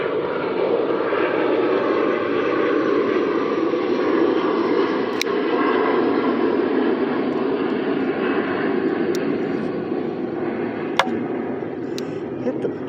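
Propeller airplanes droning steadily overhead outdoors, a continuous low roar filling the whole stretch with occasional faint clicks, while a person talks intermittently beneath it.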